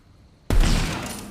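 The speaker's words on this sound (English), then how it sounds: "I'm still gonna shoot this person." Gunfire erupts in the video game Tiny Tina's Wonderlands as a sudden loud burst of shots that crashes in after a quiet moment and rings out briefly.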